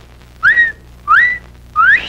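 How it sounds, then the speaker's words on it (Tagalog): Three short, loud rising whistles given by a person as a signal, each lasting about a quarter second with brief gaps between, close and clear with no talk. "Pag pumito ka ng ganyan, yan, nangangahulagan, nandiyan na."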